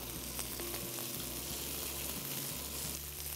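Onions roast in oil for an eggplant gravy, a faint, even sizzle and hiss sitting low under a steady hum, with no voices.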